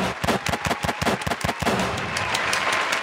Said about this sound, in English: Gunshots for Johnny.